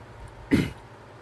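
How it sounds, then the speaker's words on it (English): One harsh, rasping throat-clearing cough, brief and close, standing alone against a quiet backdrop. "From behind the curtain comes a harsh cough. Something akin to clearing your throat."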